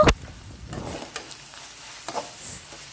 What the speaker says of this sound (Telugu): మొత్తం అంతా మిక్స్ అయ్యేలా మిక్స్ చేసుకుందాం